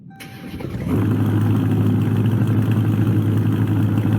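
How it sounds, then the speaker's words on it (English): A 2023 Dodge Charger Daytona in the Greenville driving game cranks and fires up, a brief starter whir building into a loud, steady engine idle that holds close and alone. "we're gonna do a startup here on the new car"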